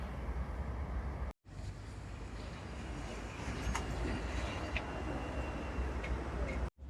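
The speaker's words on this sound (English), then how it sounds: "so that was us getting the tram" A Hong Kong tram ride gives a steady rolling rumble with faint ticks and rattles, broken by two short sudden gaps.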